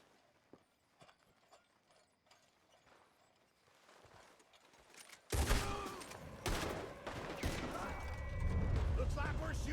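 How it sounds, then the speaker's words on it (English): Loud bursts of gunfire break out in a Red Dead Redemption 2 shootout after quiet footsteps and clicks, with dense overlapping shots and voices underneath. "Looks like we're shooting our way out of here, fellers."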